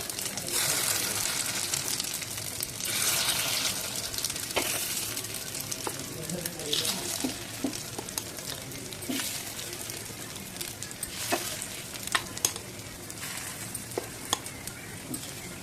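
Batter is poured into a well-heated pan and sizzles steadily, with repeated scraping and clinking of utensils, close and fairly loud throughout.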